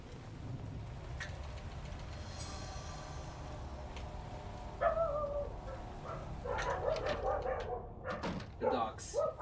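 Dogs barking in the video game Eternal Darkness, with a cluster of sharp, moderately loud barks in the second half over low ambient game noise, and someone speaking.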